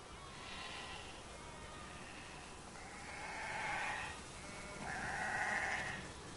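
Sheep bleat in The Last of Us Part II, with three or four drawn-out, wavering calls of rising loudness over a soft ambient bed. No one talks.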